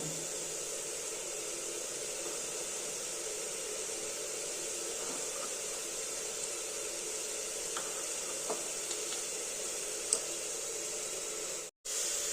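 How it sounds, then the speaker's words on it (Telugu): Oil sizzling in a pan while preparing mutton curry, a steady faint hiss that runs unbroken with only a few small ticks and no voices, cutting out briefly near the end. "ఇలా 2-3 నిమిషాలు ఇలానే నూనెలో వేయించుకోవాలి."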